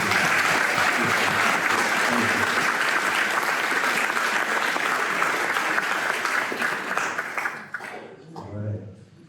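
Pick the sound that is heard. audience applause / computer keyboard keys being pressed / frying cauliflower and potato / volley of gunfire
audience applause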